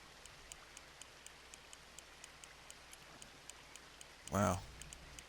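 Steady rain falls in the Red Dead Redemption 2 video game during a fishing outing, a soft, constant hiss with faint regular ticks, broken near the end by one brief, louder water splash.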